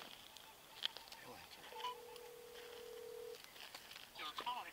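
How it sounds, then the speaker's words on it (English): Outgoing call from a sheriff's deputy's phone during a felony case, a steady ringback tone sounding for about a second and a half, fairly faint, with scattered voices and rustling around it. "Let me call the phone."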